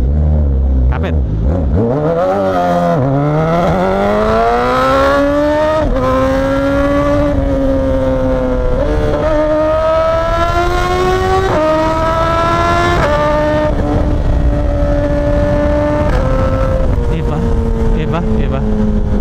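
A Suzuki GSX-S1000 motorcycle engine revs loudly and close, rising sharply in pitch at first, then holding a strong high growl with repeated climbs and dips, steady and continuous for nearly twenty seconds.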